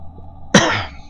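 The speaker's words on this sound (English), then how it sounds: "I'm trying my best not to cough and hack up a lung right now" A single sharp, loud cough bursts out abruptly with a rough tail, followed by near-silence and a quiet low hum in the background.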